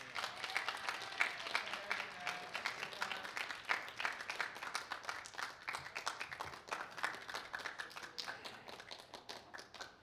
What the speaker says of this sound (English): Keep the clapping, keep the clapping, keep the clapping